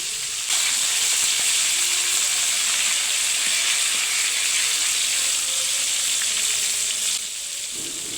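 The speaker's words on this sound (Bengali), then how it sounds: "কাতল মাছের আমার এক সাইড ভাজা হয়ে গেছে এখন অপর সাইডটা আমি ভেজে নেবো" Katla fish pieces frying in hot oil in a pan, a steady loud sizzle that holds evenly for several seconds and then eases slightly, with no talking.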